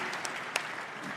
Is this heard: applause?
yes